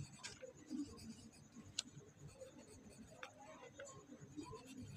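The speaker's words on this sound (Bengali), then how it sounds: "দেখো আমি লিখে দিচ্ছি এখানে" Chalk or marker writing on a board during a Class 10 English lesson: faint scratchy strokes and light taps under a teacher's steady speech.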